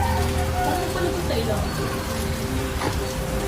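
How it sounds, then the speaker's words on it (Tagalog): Heavy rain pours steadily onto a surface, a dense continuous hiss with scattered drops, while faint voices murmur underneath. "Lakas ng ulan ah."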